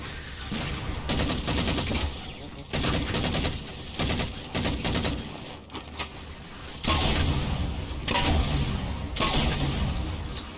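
Rapid bursts of automatic weapon fire in Halo 4, dense rattling volleys with brief gaps, loud and up front with game effects mixed in.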